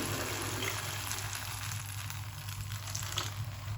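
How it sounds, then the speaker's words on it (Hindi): About one litre of water is poured into wheat cooking in a hot pot for haleem, giving a loud, steady sizzling gush that runs unbroken for a few seconds with no talking. "अब इसके अंदर डाल दे के पानी, तकरीबन 1 लीटर मैं पानी डालूंगी इसके अंदर।"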